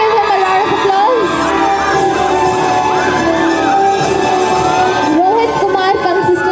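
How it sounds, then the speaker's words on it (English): Crowd at an annual day office celebration cheering, whooping and shouting for an award winner, loud and continuous throughout, with voices in the mix. "Can we give him a round of applause?"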